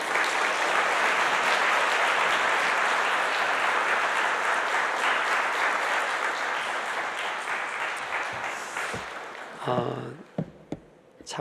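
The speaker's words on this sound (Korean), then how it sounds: "이제 목사님 나오시겠는데 힘찬 박수로 모시겠습니다" Loud, sustained applause from a Korean church congregation welcoming the guest pastor at a Sunday service, steady for about eight seconds before thinning into scattered claps and a few faint voices at the end.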